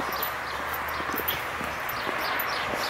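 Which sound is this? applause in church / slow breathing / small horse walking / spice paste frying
small horse walking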